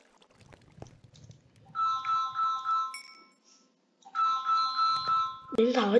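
A phone ringtone plays during a Minecraft session on PC, two loud bursts of repeating melodic tones each lasting about two seconds, separated by a short gap, with a voice breaking in right at the end.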